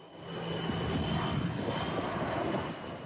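Firefighting airplane engine droning steadily and loudly throughout, a broad continuous roar with a faint steady tone, rising slightly then easing off near the end, no talking.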